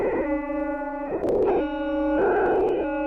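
A steady buzzy electronic tone with stacked harmonics from a time-warped audio loop in Ableton, looping in segments with brief noisy warbling breaks between repeats.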